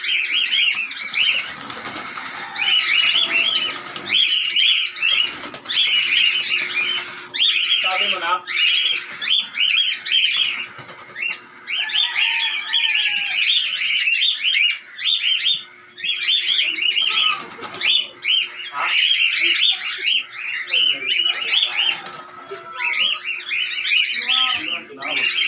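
Indian ringneck parakeets in an aviary in Baliwag, Bulacan, giving repeated shrill, squawking calls in bursts that overlap and keep going, with a low steady hum underneath and some talk in between.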